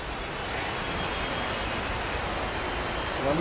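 Indoor model Extra 330 airplane flying in a small hall, its electric motor giving a steady, fairly loud broadband whir that holds for the whole stretch and swells slightly at the end.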